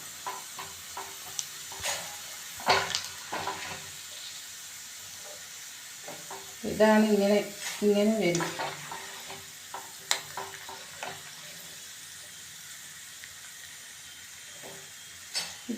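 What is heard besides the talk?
frying raw plantain chips in hot oil, stirring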